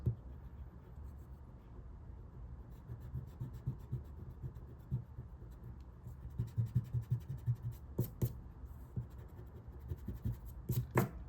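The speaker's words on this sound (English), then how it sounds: "and then I erase these guidelines" An eraser rubbing pencil guidelines off a sheet of paper, a close, soft run of scratchy strokes that grow quicker and more rhythmic toward the end, with no talking.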